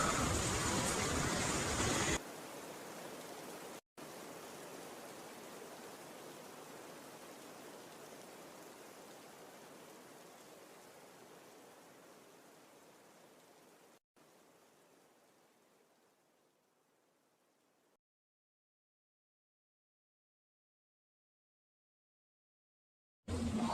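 Steady rain falls as a broad, even hiss that is loudest at first, then thins and fades gradually into silence, with no voices.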